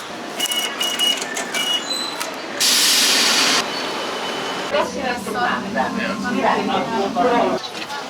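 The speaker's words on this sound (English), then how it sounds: "So we are at the end of this metro ride." Ride on a Rome metro train, the carriage rumbling and clattering with brief metallic squeals and electronic tones, a short burst of hissing noise, and voices talking over the rolling train.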